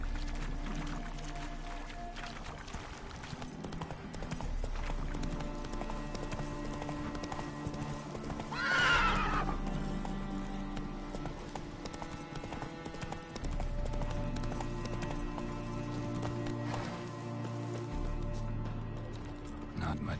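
Roach, a horse in The Witcher 3, gallops with a steady, close clip-clop of hooves throughout, one brief louder burst midway over continuous game ambience.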